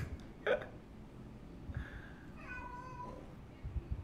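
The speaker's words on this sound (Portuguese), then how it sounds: "meu gato está brincando em cima da escada sozinho" A cat playing alone on a staircase meows a couple of times, faint and somewhat distant, over a soft low room rumble with a few small knocks.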